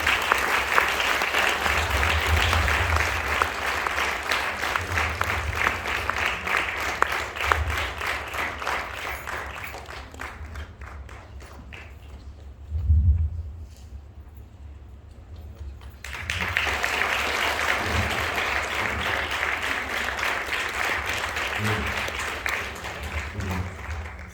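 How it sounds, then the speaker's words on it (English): A crowd at a student music awards ceremony applauds an award winner with sustained, fairly loud clapping. It fades to a quieter lull partway through, then swells again to full applause. "Please give her a very big round of applause."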